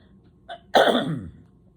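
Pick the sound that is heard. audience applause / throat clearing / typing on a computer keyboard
throat clearing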